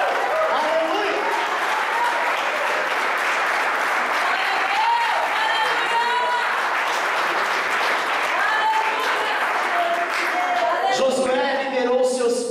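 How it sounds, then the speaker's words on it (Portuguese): Church congregation applauding, a loud sustained wash of clapping filling the whole stretch, with voices calling out over it. "Aplauda ao Rei, que Ele é digno."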